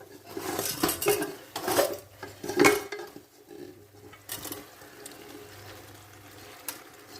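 Cooked chicken tipped into an iron pan and mixed with masala for a chicken roast, with clattering metal scrapes and knocks, some loud and close, followed by a quieter stretch with a few light taps.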